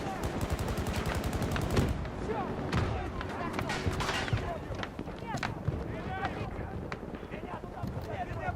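Rapid bursts of gunfire from the Battlefield 2042 video game on Xbox Series X, dense overlapping shots and impacts in a chaotic firefight, loud and continuous throughout, with speech mixed in.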